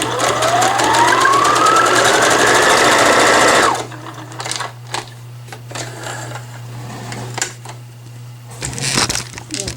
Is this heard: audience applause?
no